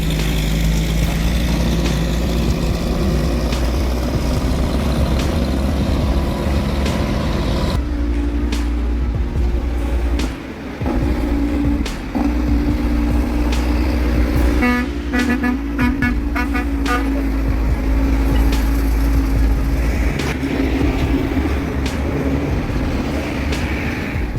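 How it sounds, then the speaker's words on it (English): Heavy off-road truck engines roar loudly and steadily without a break, with a horn or tone sounding partway through and a clattering burst near the middle, all close and dense. "with the roar of engines, screeching tires, and sirens echoing across the valley"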